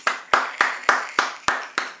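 A person claps their hands seven times in an even, steady rhythm, close and crisp, with no talking.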